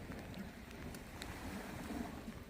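Rain falls steadily on a sea fishing spot. It makes a faint, even patter with light wind noise against the microphone, and no one speaks.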